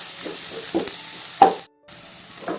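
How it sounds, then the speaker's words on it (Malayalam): Shallots frying in oil in a pan for a Kerala-style ivy gourd and egg stir-fry, giving a soft steady sizzle broken by a few brief scraping stirs and a short silent gap. "ഉള്ളി മാത്രമാണ് ഇപ്പോൾ നമ്മൾ മൂപ്പിക്കുന്നത് കേട്ടോ"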